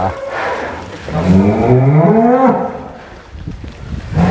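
A rampaging bull out of its pen gives a long, loud, close bellowing moo that rises and falls, followed by a shorter grunt.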